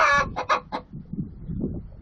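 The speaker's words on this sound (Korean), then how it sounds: "써니가 고양이 집 근처에서 계속 울고 있다" A hen clucks in a quick burst of four or five calls near a cat house before laying, followed by softer low murmuring clucks, close by with no talking.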